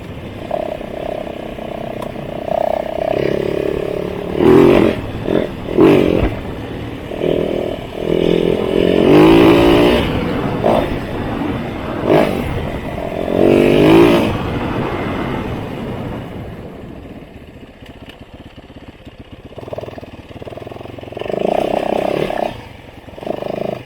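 A new motorcycle engine runs and revs, with several loud throttle bursts rising and falling over a rough idle, then settling quieter before another rev near the end.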